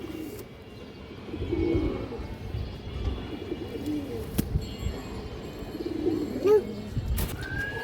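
Pigeons at a market coo in soft, repeated throaty bursts close by, mixed with background chirps and a low murmur of ambient noise.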